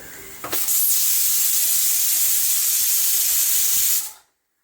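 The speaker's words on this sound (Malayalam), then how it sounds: "ആ കുക്കർ വിസിലടിക്കുന്നത് ലൈവ് ഓഡിയോ ആയിരു" A pressure cooker in a home kitchen lets off a loud, steady steaming hiss of its whistle, rising abruptly and cutting off after about four seconds.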